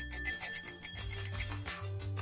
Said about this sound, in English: You could add a motor shield and ring a real bell.